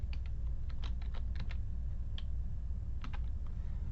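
Fingers type on a computer keyboard while entering text into an Excel spreadsheet, a quick run of light, close keystroke clicks in irregular bursts over a low background hum.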